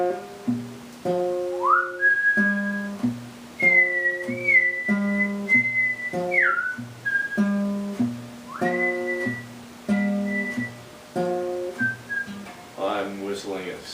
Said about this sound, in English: I'm whistling it so as not to subject you to my voice.